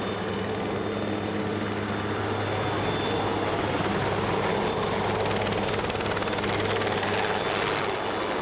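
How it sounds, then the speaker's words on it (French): A helicopter flies low over vineyards during a mountain rescue flight at the limit of its power, giving a loud, steady rotor and engine drone with a constant hum throughout and no speech. "le vol hélico dans les vignes"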